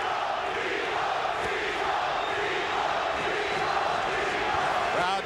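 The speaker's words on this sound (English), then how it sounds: "Crowd chanting Tito, Tito, Tito, Trinidad's nickname." A boxing crowd at the Tito Trinidad vs Pernell Whitaker fight chants the fighter's name Tito, a dense, steady roar of many voices filling the arena throughout.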